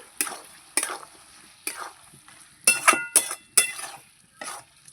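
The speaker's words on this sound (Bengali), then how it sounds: "এবার বেগুনগুলো দিয়ে দেব এই যে বেগুনগুলো দিয়ে দিচ্ছি বেগুনগুলো সব দিয়ে দিলাম আবার একটু নেড়ে চেড়ে নেব" Eggplant pieces fry in a pan while a spatula stirs them in about eight separate scraping strokes. Each stroke carries sizzle and light metallic clinks, with brief quiet gaps between them.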